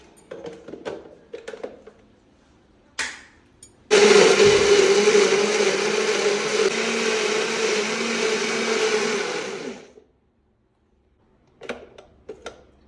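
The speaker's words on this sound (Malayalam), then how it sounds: "ഇപ്പൊ നമുക്ക് മിക്സിയുടെ ചാറിലിട്ടിട്ട് ഇതൊന്ന് അടിച്ചെടുക്കാം" A mixer grinder whirs loudly and steadily for about six seconds, close by, blending papaya into a smooth paste, with a few light clicks and taps before and after.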